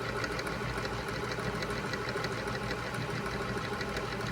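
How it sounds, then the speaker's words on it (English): A Janome HD 1000 sewing machine winds its bobbin under foot-pedal control, giving a steady continuous motor whir with a fine rapid mechanical rattle throughout, close and even in level. "We're gonna step on our foot pedal and let it start to wind."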